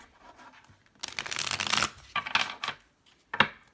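Tarot cards shuffled by hand during a psychic reading: close, crisp riffling bursts, one long sustained shuffle followed by several shorter flurries, with no talking.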